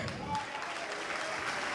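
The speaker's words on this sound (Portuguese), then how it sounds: "e vamos aplaudir, igreja." A church congregation applauds during a Portuguese-language sermon, giving a dense, steady wash of clapping that sounds distant and soft throughout.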